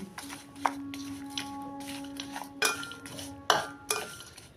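Spoon scraping and clinking against a pan while a mixture with jaggery or rock sugar is stirred, in a series of separate metallic knocks and scrapes, fairly near and moderately loud, with no talk.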